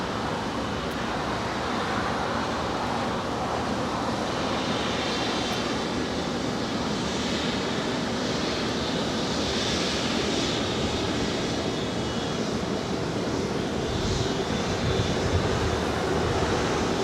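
An American Airlines jet taking off from runway 25 right at Los Angeles International Airport, a steady broad engine roar held throughout at moderate distance, with faint road traffic blended in and no speech.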